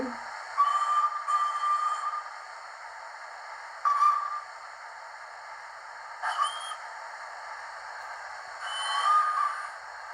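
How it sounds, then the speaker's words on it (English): A Hornby Class A3 Flying Scotsman model steam locomotive's small whistle sounds in several short toots, high and thin, over a constant mechanical hum. "We've got our little whistles on 2."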